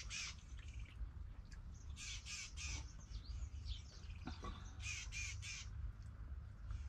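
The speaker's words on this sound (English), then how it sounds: "Can hear the sounds of the birds." Crows caw repeatedly in an early-morning African village setting, harsh calls coming in bursts at moderate distance over a steady low rumble of background noise.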